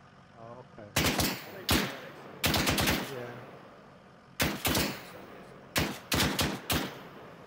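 Automatic gunfire from the Arma 3 video game comes in several loud, close bursts of rapid shots separated by short pauses, with a voice heard faintly between them.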